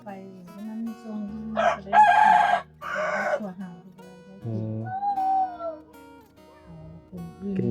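A rooster crows loudly nearby among other clucking fowl, while people talk in the background.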